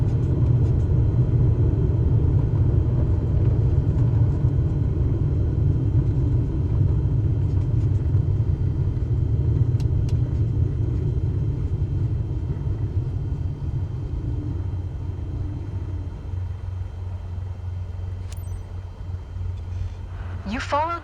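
Simulated light airplane in Microsoft Flight Simulator 2024 rolling out on the runway as brakes slow it, a steady low engine and wheel rumble that gradually eases and thins toward a stop, with a brief click near the end.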